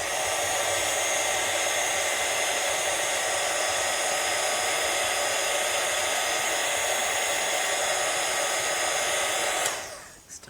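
Craft heat tool blowing hot air over a craft embellishment, a steady loud whirring hum that runs continuously and then cuts off abruptly near the end.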